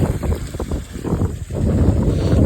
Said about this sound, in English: It is still windy.